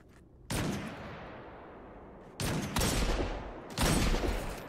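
Three loud, sharp sniper rifle shots in the video game Destiny 2, each a single crack with a long decaying tail, spaced a second or two apart, with no talking.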